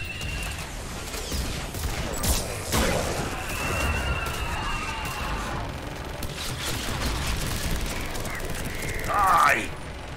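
A barrage of missile launches and gunfire from the Mass Effect 3 video game, with heavy booming blasts and rattling shots running throughout and a louder burst near the end, set among battle effects.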